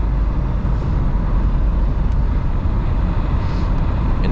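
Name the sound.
1979 Ford Thunderbird engine driving at quarter throttle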